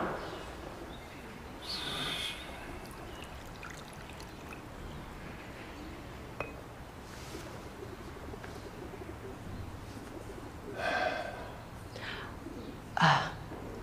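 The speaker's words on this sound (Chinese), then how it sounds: "这只鸽子跟你很熟吧？" A pet pigeon coos softly in a quiet indoor setting, giving a few faint, low murmuring calls against a hushed background, with one slightly louder burst near the end.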